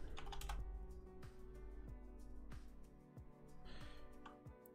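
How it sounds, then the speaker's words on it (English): A password typed on a computer keyboard while setting up an Ubuntu live USB, with a short run of faint, irregular key clicks over a steady low hum, close and quiet, with no talking. "I'm going to type in our password."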